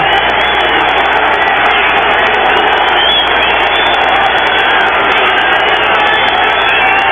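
Home crowd at a New York Jets stadium during a 1990 game against Dallas, a steady, dense roar of cheering and shouting that holds at a constant loud level throughout with no pauses.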